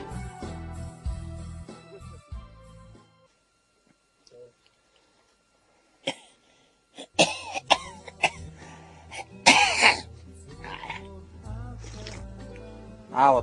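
Coughing from a person, several harsh bursts and throat-clearing sounds scattered between quieter gaps, mixed with people talking.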